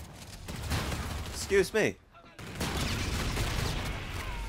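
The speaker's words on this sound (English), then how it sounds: "we're lighting him up with just a shotty and a throwing knife" Shotgun blasts from the Rack-9 in Call of Duty: Infinite Warfare, heavy bursts of game gunfire and action noise with a brief spoken interjection in the middle.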